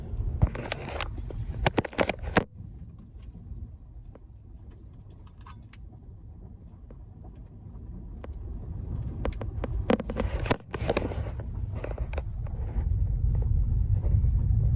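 A car rolls along a gravel road, a steady crunching rumble of tires on loose stones running throughout, with louder bursts of grit and clatter early on and near the end.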